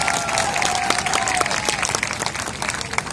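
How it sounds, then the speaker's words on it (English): Audience applause at an Air Force band performance, dense crowd clapping that swells briefly then carries on steadily, fairly loud and close, with a faint tone lingering early on. "a big round of applause please."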